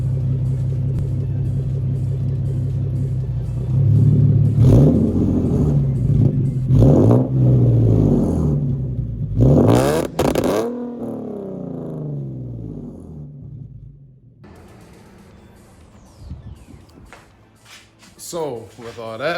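An Infiniti G37 exhaust revving loudly and close, with several throttle blips and deep rumbling rises and falls that settle into a quieter idle, followed by a couple of late surges.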